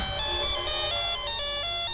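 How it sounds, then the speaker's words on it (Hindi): A mobile phone ringing with a steady electronic tone that pulses in a repeating pattern, clear and alone with no voices. "नेहा, तुम्हारा फोन।"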